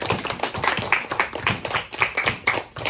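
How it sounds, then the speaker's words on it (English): Applause from an audience at a school awards assembly: a short burst of fairly close hand clapping, steady and dense for about three seconds. "let's give them one last round of applause"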